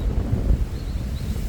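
Wind blows steadily outdoors while fire starters are lit, a continuous rough rumble of gusting air buffeting the microphone, loud and close with no voices.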